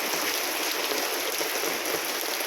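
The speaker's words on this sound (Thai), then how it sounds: "ลูกค้ามาซื้อของพอดีฝนตกค่ะ" Steady, dense rainfall hissing evenly on surfaces at a market in Lopburi, Thailand, loud and continuous with no voices.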